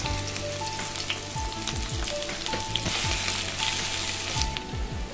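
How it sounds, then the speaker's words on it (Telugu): Chopped onion and green chilies sizzle steadily in hot oil in a pan on the stove for a curry, a continuous crackling fry with faint clinks and stirring underneath and no talk. "స్టవ్ వెలిగించుకొని ఆయిల్ పోసి కర్రీ చేసుకున్నాం ఉల్లిపాయ పచ్చిమిరకాయ వేసేస్తున్నా"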